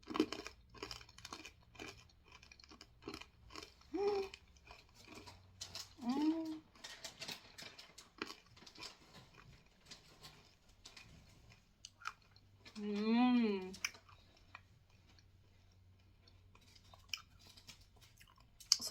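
Quiet, close crunching and chewing of a hard candy filled with condensed milk, small clicks and crackles scattered throughout, with brief voiced murmurs and hums in between.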